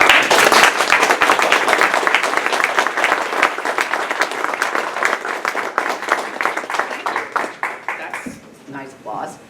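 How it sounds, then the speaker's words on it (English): An audience applauds to welcome a speaker at a talk on the biological and evolutionary impacts of climate change, the dense, loud clapping sustained for about eight seconds and then thinning out quickly as a voice begins. "Nice applause."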